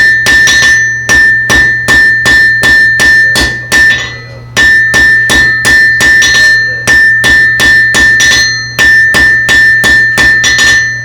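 Blacksmith hammering metal at a smithing event, a rapid, loud series of ringing, close hammer blows in regular bursts with short pauses between runs and no talk.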